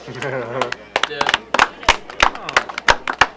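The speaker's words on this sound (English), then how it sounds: "round of applause" A round of applause from an audience at a show, with sharp scattered claps rising over a loud talking voice and laughter-like chatter, close and lively throughout.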